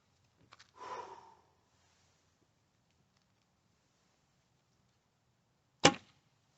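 A faint breathy rustle, then after a few seconds of quiet a single sharp impact with a quick, dull splat as an arrow from a short recurve bow strikes the target.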